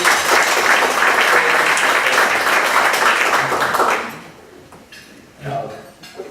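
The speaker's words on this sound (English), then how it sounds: "Let's have a round of applause for our visitors." Meeting audience applauds visiting speakers with loud, full clapping that stops abruptly after about four seconds, followed by quiet room noise and a brief murmur of voices.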